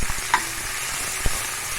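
Green chili, ginger and garlic being sautéed in a pan for an egg gravy, giving a soft steady sizzle with a couple of brief stirring clinks, moderately near and without speech.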